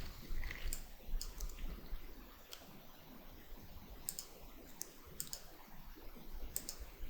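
Sharp, isolated computer mouse clicks at irregular intervals, some in quick pairs, fairly faint over a low background hum while someone sets up pivot point indicators on a trading chart.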